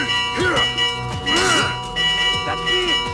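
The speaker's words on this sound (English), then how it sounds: "Going to ring the bell!" A bell rung during a fight in Assassin's Creed Mirage, sounding in a few loud, ringing strikes with tonal swells that decay, mixed with shouted voices and game noise.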